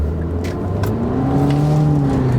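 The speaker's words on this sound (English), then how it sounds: "So you can hear that loud turbo engine take off" Turbocharged engine of a 2020 Infiniti QX50 accelerating hard from inside the cabin, a loud steady drone with rising harmonic tones as revs climb, continuous and close with no talk.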